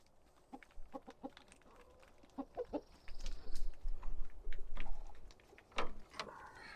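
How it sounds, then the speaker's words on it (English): Farm chickens let out of their coop through a gate give scattered soft clucks and short squawks, near and moderately loud, growing busier midway with faint background rustle. "it's as simple as opening up the gate and letting these birdies come out"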